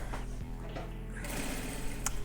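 Sewing machine stitching a fabric bag, a short run of rapid mechanical needle clatter at moderate loudness with no talk.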